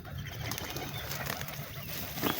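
Birds flapping their wings close by as ducks gather for food at a riverside, a steady fluttering rustle running the whole time with a brief louder flurry near the end.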